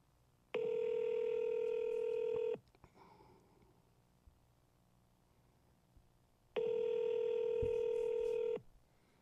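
Google Voice call tones play as two long, loud steady electronic ringback beeps, each about two seconds, separated by several seconds of quiet with faint background noise.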